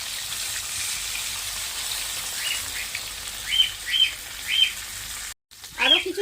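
A paste of ground ginger, garlic, onion and mustard, thinned with water, goes into a hot kadai for Bengali koi fish curry, making a steady, even sizzle that runs throughout while birds chirp nearby.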